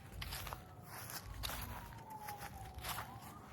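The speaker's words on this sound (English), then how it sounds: "Here's siren way off in there somewhere." A siren wails faintly in the distance, its pitch sliding up and down, over crunching footsteps and outdoor noise.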